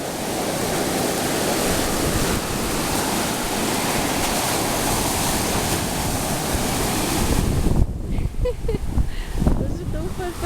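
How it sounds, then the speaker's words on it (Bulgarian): Black Sea waves wash continuously onto the shore at Kara Dere, Bulgaria, a loud rushing surf with wind buffeting the microphone, thinning out near the end as brief sounds break through. "Ето го нашето прекрасно море."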